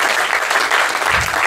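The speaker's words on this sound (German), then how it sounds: "Mach nochmal Applaus für diese komische Familie" Live stand-up comedy show audience breaking into dense applause, many hands clapping loudly and steadily for the whole brief moment.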